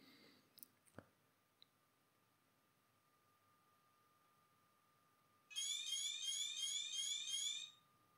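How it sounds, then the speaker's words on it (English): A radiation detector alarm held against uranium ore, a loud rapid chirping beep pattern that starts abruptly after a few quiet clicks and runs for about two seconds before stopping. "yeah, the alarm goes off eventually."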